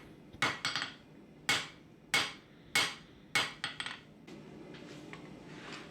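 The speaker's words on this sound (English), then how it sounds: "now I'm going to switch over to my diagonal peen hammer to then draw out that tang stock" Diagonal peen hammer drawing out the tang of a kitchen knife at the forge: about a dozen sharp metallic strikes, some single, some quick doubles and triples, ringing close and loud, then fading into quieter taps.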